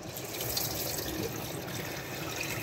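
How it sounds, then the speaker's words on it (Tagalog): Steady running tap water splashing and trickling as charcoal is rinsed, continuous and close, with no talking. "Nire-rinse ko yun ng tubig."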